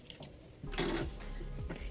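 A sewing machine stitching a blouse gives a brief, faint mechanical whir with light clicking, close and on its own, lasting under two seconds.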